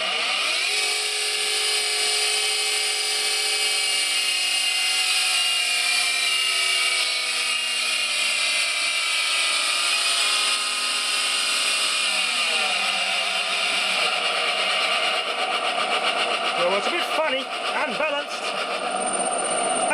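A worn-bearing Fimec electric motor runs loud and steady, its high whine sliding slightly in pitch and turning rougher and rattly toward the end, with no speech over it.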